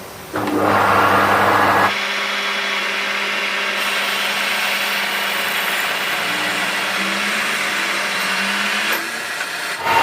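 Power tool reaming out a hole in a fuel tank cap, a loud steady whir with a higher-pitched burst at the start, running continuously for most of the span before cutting off near the end.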